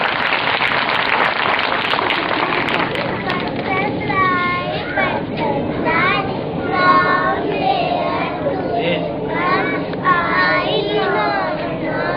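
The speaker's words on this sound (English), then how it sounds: "Give them a clapping." Audience at a personality development program clapping steadily in sustained applause, with voices and cheering, including children's voices, rising over the continuous patter.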